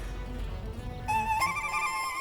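A telephone ringtone in an Indian TV comedy scene starts partway through after a low rumble and rings as a steady electronic tone, with no one talking.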